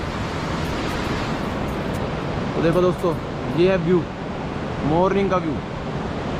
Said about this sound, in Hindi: इतना ठंडा ठंडा पानी, और कितनी बेहतरीन आवाज़ है यार पानी की।